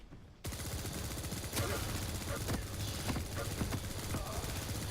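Rapid automatic gunfire, a machine gun or nail gun in the video game Quake Champions, rattles in a dense, continuous burst that begins after a short pause and stays loud throughout, with no voices over it.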